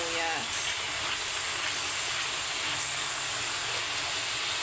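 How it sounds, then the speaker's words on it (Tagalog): Garlic and onion sautéing in a hot pan give off a loud, steady sizzle that fills the short stretch without a break. A brief tone sounds near the start. "Magigisa na tayo ng bawang at sibuyas."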